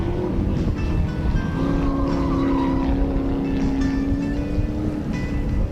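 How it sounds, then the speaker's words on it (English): Big Chevrolet-engined ISO race car at the Wakefield circuit powers out of the first corner, its deep engine roaring steadily and loudly with rising pitch under open-air wind noise. "Tremendous amount of torque, of course, from this car with its big Chev engine."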